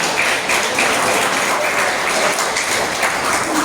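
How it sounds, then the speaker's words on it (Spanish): A church congregation applauds steadily and loudly, a dense wash of clapping throughout. "¿Cuánto damos un aplauso a Él?"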